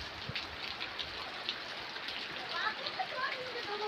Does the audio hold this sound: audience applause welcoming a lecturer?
no